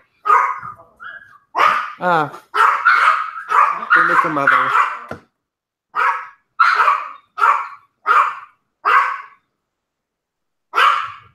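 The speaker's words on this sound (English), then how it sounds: "sometimes your dogs sound like they're yelling like a person" Dogs bark and yelp in short bursts, some shrill and almost human-sounding, first mixed with a person talking and then alone as several separate barks spaced a second or so apart.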